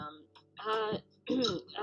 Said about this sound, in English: kind of clear my throat a little